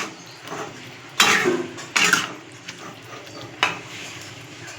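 A spoon scrapes and clinks against a pot while thinly sliced green chillies are stirred into a vegetarian pachan curry, several sharp metallic knocks at irregular intervals over a soft background hiss.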